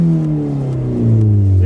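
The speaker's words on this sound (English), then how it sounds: "Here, I'll get a rev for you guys." A Mazda 3 engine revs through its aftermarket exhaust, a brief, loud, close rumble whose pitch climbs and swells toward the end.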